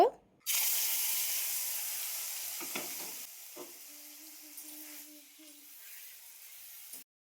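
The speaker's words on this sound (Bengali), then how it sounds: "তো তেলটা ভালোভাবে গরম হয়ে গেলে এবার আমি চিকেনটাকে পুরোটাই ঢেলে দেব।" Chicken tipped all at once into hot oil in a wok, bursting into a loud, steady sizzle after a short quiet start, with a few clinks and scrapes as the frying settles and continues.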